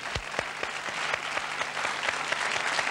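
Studio audience applauding during a 1993 Israeli TV entertainment show, a dense, lively clatter of many hands clapping nearby with sharp individual claps standing out, carrying on steadily without voices.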